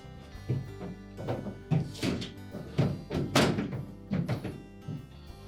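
A refrigerator shelf going back in during a Whirlpool fridge repair: a string of loud, close hollow thunks and plastic knocks, roughly eight impacts spread unevenly over several seconds with handling clatter between them.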